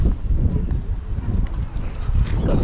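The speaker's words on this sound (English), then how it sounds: "Excuse me if there's any noise from the wind." Strong gusty wind buffets the microphone on a seaside walk near Porlock Weir, a loud continuous low rumble.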